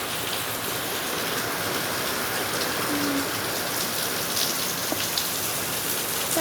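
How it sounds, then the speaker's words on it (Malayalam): Heavy rain pours steadily on a Kerala homestead among coconut palms and banana plants, a dense even hiss with scattered drop taps, constant throughout and no voices. "ഇപ്പോഴാണ് മഴ തുടങ്ങിയത്. അപ്പോൾ ഇവിടെയൊക്കെ സൈഡിലൊക്കെ നല്ല മഴയാണ്."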